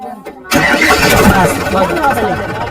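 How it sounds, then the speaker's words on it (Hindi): A Solis 4515 tractor's diesel engine cranks and catches after a short quiet start, then settles into a loud, steady running rumble that fills the rest of the clip. "एक बार ट्रैक्टर को स्टार्ट कीजिए आप"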